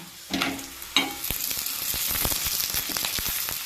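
Spinach (palak) paratha fries in oil in a pan, giving a steady close sizzle with crackling pops throughout and a couple of louder clatters near the start.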